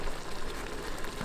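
Stew simmers in a pot at a campsite, a steady, close bubbling hiss with no voices.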